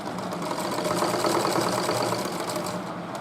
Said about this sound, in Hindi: इलास्टिक को हल्का हल्का ऐसे खींचते रहना है और इस पे सिलाई लगानी है।